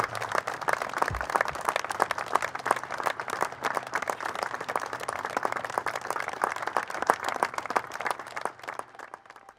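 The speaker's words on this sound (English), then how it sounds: "And a minute round of applause," A large crowd gathered at a memorial for 22 victims applauds at length, a dense, steady roar of clapping that holds for several seconds before easing slightly at the end.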